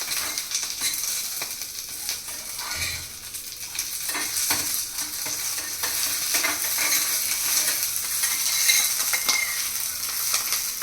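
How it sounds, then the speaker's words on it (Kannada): Ingredients for herbal tambuli fry in a pan, a close, steady sizzle with stirring scrapes and occasional light clinks, continuing throughout without talk. "ಇದನ್ನು ಸ್ವಲ್ಪ ಹಾಕೊಂಡ್ಬಿಟ್ಟು ಈ ಥರ ಹಾಕ್ಕೊಂಡು ಸ್ವಲ್ಪ ಹುರ್ಕೊಳ್ಳೋಣ."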